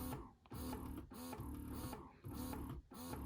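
A Vital Baby electric breast pump runs in a steady motor cycle, humming and whirring in regular pulses about every half second to second. It is close and fairly quiet.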